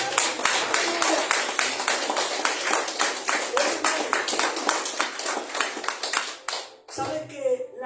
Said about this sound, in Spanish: Un fuerte aplauso, bien bonito al Señor